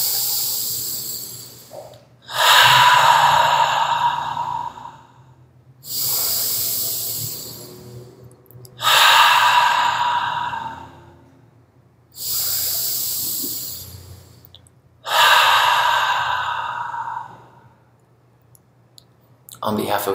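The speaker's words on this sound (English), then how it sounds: "Let's take 3 breaths together," A group breathes slowly and deeply in through the nose, each long airy inhale and exhale rising and fading in an even rhythm across several cycles, close and without talk.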